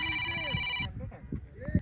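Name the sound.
phone ringtone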